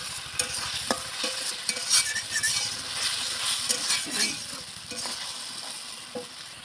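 Fried potatoes go into a pan of mango shol curry and get stirred, a spoon scraping and knocking against the pan in an irregular rhythm over a soft, continuous sizzle, close by.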